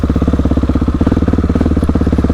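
A Husqvarna 701 single-cylinder motorcycle idles up close, a loud, steady, rapid thumping beat with mechanical clatter and no talking over it.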